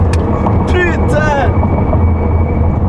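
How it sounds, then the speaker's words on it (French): A high-power electric car of over 1000 hp makes a full-throttle drag launch. A loud, steady rush of road and wind noise fills the cabin while a voice briefly exclaims. "Donc là, on va faire un lancement drag."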